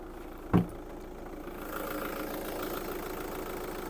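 Volkswagen Touran 2.0 TDI diesel engine idles with a steady, low rumble, heard close under the open bonnet, after a single sharp knock near the start.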